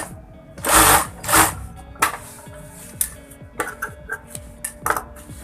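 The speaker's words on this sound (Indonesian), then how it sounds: "jadi kita langsungin aja ini dijahit sob ya" A sewing machine stitches the vent of a shirt-style jacket made without lining, with rapid mechanical whirring and clattering bursts, two longer runs near the start and shorter stop-start bursts later, close and loud with no talking.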